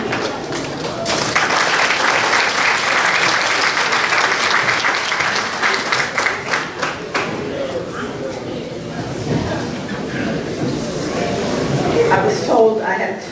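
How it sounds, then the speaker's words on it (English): Sustained clapping from an audience fills the room for several seconds, then fades as people start talking. "So again, Tony and Bill and the rest of you deserve a round of applause, and I appreciate it."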